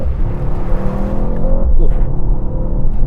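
A Mercedes-AMG GT 4 Door accelerating on a wet road, its engine note rising steadily in pitch and then dipping briefly at a shift before climbing again, loud and heard from inside the car.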